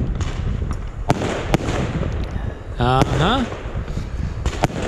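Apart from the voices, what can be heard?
fireworks going off in front of a driveway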